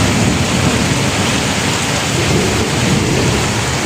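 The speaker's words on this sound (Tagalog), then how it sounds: "Lakas ng kulog, grabe." Heavy rain pounding down in a continuous loud roar during a thunderstorm, with deep rumbling thunder woven through the dense downpour.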